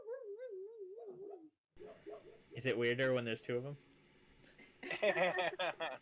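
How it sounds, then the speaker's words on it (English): A sleeping dog lets out a wavering, high whimpering howl, then a few softer whines, fairly faint, before people start talking and laughing over it. "That's my dog sleeping."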